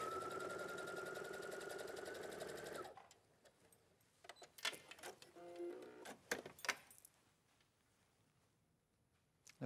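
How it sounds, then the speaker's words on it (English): A domestic sewing machine doing a straight stitch through 16 layers of fabric: a fast, steady, close whir for about three seconds, then slower, separate labored thunks and pauses as it pushes through. "let's sew through 16 layers of fabric"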